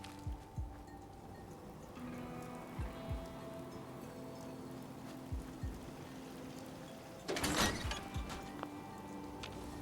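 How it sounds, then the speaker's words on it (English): Steady rain patters through the Fallout 4 game world, a soft continuous wash with scattered faint ticks and thumps, swelling briefly into a louder burst of noise near the end, with no voices. "Hope this rain lets up soon."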